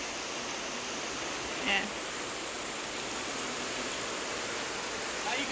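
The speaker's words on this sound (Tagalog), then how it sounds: "Ang falls." A waterfall in Hong Kong pours as a steady, broad wash of white-noise roar that stays even and close throughout, with a brief voice near the end.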